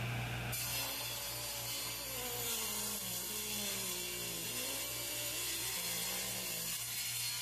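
A power saw cuts continuously through maple wood guided along a saw fence, loud and close, with a steady high whine and a fluctuating grinding tone throughout, no voices.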